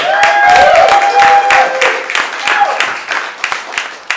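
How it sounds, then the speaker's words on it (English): Audience applause for comedians at a celebrity roast honoring Lucille Ball, a burst of clapping and crowd noise that swells early then thins out over a few seconds, with voices mixed in. "Let's also give a big round of applause for our comedians so far tonight"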